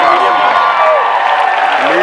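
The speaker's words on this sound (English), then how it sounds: "Give him a tremendous round of applause" Audience at a live motivational event in Las Vegas claps and cheers in a steady, dense wash of applause, with voices and whoops mixed into the crowd noise throughout.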